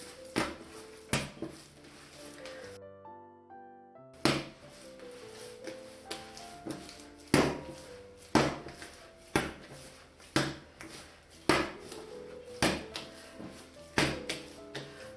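Dough being kneaded by hand with oil for a poppy seed filled twisted pie, heard as a steady run of sharp slaps and thumps against a board at a brisk uneven rhythm, with a short quiet break.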